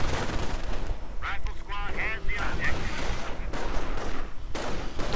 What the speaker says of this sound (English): There we go, German mortar firing